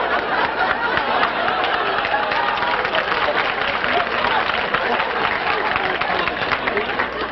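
A crowd at a contest claps loudly and steadily over several seconds, with cheering and some voices mixed into the dense, continuous applause.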